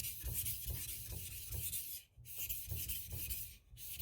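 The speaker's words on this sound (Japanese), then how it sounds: "音が聞こえると思うんですけど、しっかりと研ぎ減らしているという感じになりますね。" Steel knife blade, Swedish steel, being ground back and forth on a synthetic whetstone with strong abrasive bite, giving a steady rhythmic rasping scrape with two brief pauses, close and alone.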